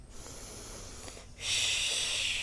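Deep breaths drawn during a downward facing dog yoga pose in a backyard, a soft airy exhale followed by a louder, hissing inhale, close and alone.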